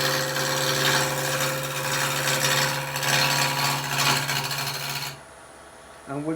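Spindle roughing gouge cutting wood on a lathe, a continuous loud rasping, scraping hiss that runs steadily for about five seconds before stopping abruptly, followed by brief faint handling noise.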